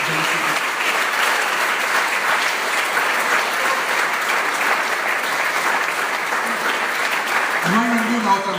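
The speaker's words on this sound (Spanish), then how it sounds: "Denle un aplauso al que vive y reina por los siglos de los siglos" Sustained applause from a large crowd, steady and dense clapping filling the space, with a voice emerging faintly at the very end.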